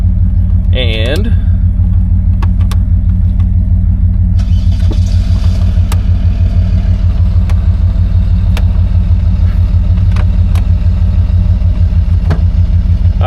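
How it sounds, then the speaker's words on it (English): A 1970 Buick LeSabre idles with a steady, loud low engine drone, and a brighter mechanical whir joins partway through as the air conditioning compressor kicks on, along with a brief squeal near the start. "I hear the compressor kicking on"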